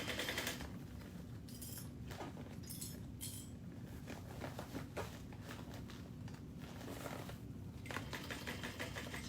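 A sewing machine stitches through a thick seam with a divider panel, running in rapid mechanical bursts with brief pauses, close and fairly quiet, with no talk.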